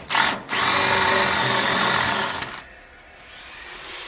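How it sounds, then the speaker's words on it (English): A power drill bores bigger holes into a wooden door for a lockset, a loud close sustained whine of about two seconds after a short burst, then winding down into quiet room noise. "And now we're going to make the bigger holes for the lock itself."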